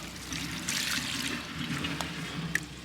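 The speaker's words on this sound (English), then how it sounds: "And then the water will just start pouring out." Dechlorinated water, free of chlorine and fluoride, poured back through a covered worm farm, splashing and trickling steadily at close range with a few small drips near the end.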